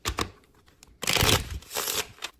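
A regular deck of playing cards is shuffled close up, with a few quick taps and then two longer riffling bursts of crisp papery flutter, alone without speech.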